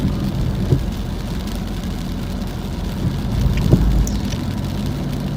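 Rain falls steadily on the coastal bridge along the Bang Saen beachfront, a continuous hiss over a low rumble of passing cars that swells briefly now and then, with no one talking.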